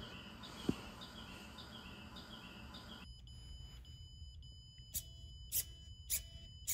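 Short synthetic bird chirps from a lab program, several high bright tweets repeating faintly after a quieter stretch of electronic warbling, heard alone with no talk.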